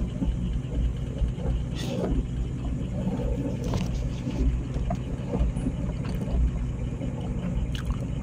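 A steady low engine drone rumbles throughout with constant water and hull noise, a boat motor running at an even pace with no pauses.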